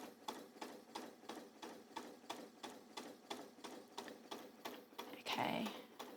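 A sewing machine top stitching a waistband seam, running in a steady, rapid mechanical rhythm of regular stitch pulses, near and fairly quiet, with a short burst of louder noise near the end as it stops.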